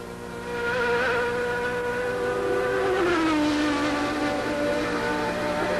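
Formula One cars at the 1990 Mexican Grand Prix prequalifying session, a loud, sustained high-revving engine whine close by that holds steady, then drops in pitch as the car passes and continues droning.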